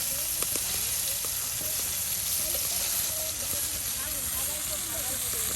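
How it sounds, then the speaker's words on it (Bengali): Eggplant slices fry in hot oil in a pan, giving a steady, continuous sizzle with faint crackles while someone speaks over it. "এই যে বাগুন ভাজা"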